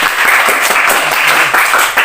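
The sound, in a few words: applause in classroom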